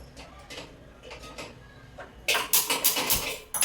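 A large cooking pot is picked up in a home kitchen, starting with faint scattered ticks and then several loud, close metallic clanks and rattles in quick succession near the end.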